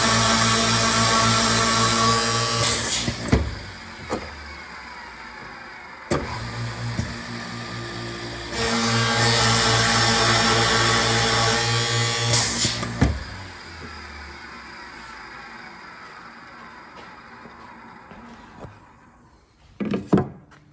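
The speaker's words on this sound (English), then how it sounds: "I'm gonna go ahead and drill these 2 hinge holes in this door" A power drill whirs loudly in several bursts, boring hinge holes in a solid wood cabinet door: a short run, a longer run of a few seconds, then a brief final spin, with quiet pauses between.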